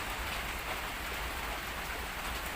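Steady heavy rain falls continuously, a dense even hiss of drops on surfaces outdoors near Khao Yai, with no talking.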